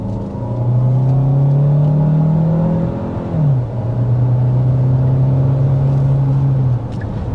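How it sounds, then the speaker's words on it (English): A 2025 Hyundai Santa Fe hybrid accelerates through its 6-speed automatic transmission, the engine drone climbing steadily, dropping sharply at a single upshift, then rising again before easing off. "we are shifting through a transmission"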